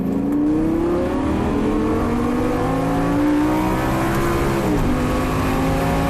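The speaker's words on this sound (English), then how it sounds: "nice and easy, and you can accelerate" A sports car engine revs up steadily and loudly, pitch rising, then dips briefly as the gear shifts and keeps pulling.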